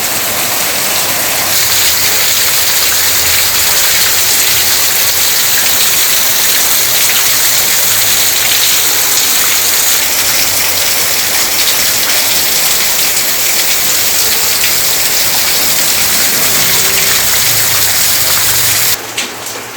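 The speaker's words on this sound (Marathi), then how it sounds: "भरपूर पाऊस पडतोय बाहेर" Heavy rain pours steadily outside, a dense unbroken roar of falling water with no voices.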